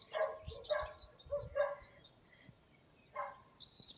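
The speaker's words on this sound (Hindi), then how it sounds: "कुत्ते भौंक रहे हैं यहाँ पे" Distant dogs bark in several short bursts while birds chirp over quiet outdoor ambience in rural Bosnia, with sheep nearby.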